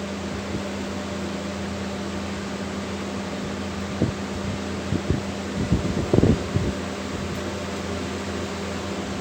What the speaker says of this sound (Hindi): आप इसकी आवाज़ से भी इसको देख सकते हैं कि कूलर हमारा चल रहा है।